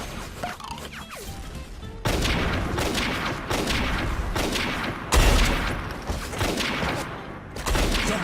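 Loud sniper gunshots fired at the player in a video game, several sharp cracks and heavy impacts in quick succession over busy battle noise.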